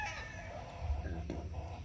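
Gamecock stag rooster making short clucking and throaty calls close by, a few brief bursts over light background noise.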